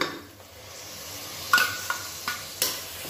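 Tomato puree from about three blended tomatoes being stirred into chicken gravy frying in a pan, a soft steady sizzle with a few sharp scraping clinks of the spoon against the pot.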